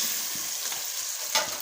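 Fish pieces in masala curry being gently stirred as they fry, a constant close sizzle with soft spoon scrapes and one brief louder clink, no talking.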